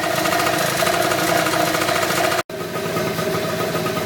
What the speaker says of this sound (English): So the bike has been idling for about 15 minutes now